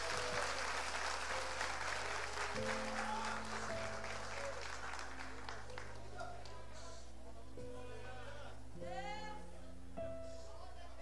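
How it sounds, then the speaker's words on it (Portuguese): A church congregation applauds, with clapping loudest at the start and fading over several seconds. Sustained tones and scattered voices sit underneath. "dando a Jesus uma linda salva de palmas"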